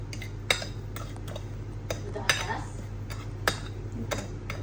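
Spoon stirring sesame seeds and sugar in a bowl, with a few sharp clinks against the bowl at irregular intervals over a low steady hum, fairly faint.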